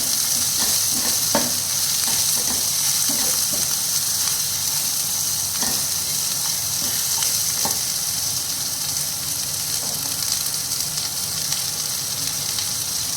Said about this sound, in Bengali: পেঁয়াজটাকে এইভাবে